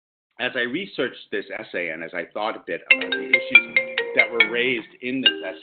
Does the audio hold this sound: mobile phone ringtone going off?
yes